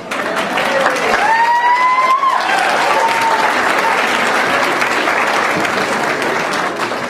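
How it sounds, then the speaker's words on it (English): A graduation ceremony audience of parents, supporters and relatives claps loudly and continuously, with a few voices briefly rising through the applause near the start. "give them a good clap"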